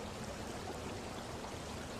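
A river flows in a steady, faint, broadband rush of moving water with no other sounds.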